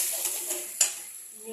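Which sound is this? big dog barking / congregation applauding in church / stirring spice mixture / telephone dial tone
stirring spice mixture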